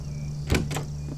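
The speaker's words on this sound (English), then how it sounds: "right click to open a door" A door opening in the video game Cubic Odyssey, with two short whooshing mechanical slides in quick succession over a steady low engine-like hum.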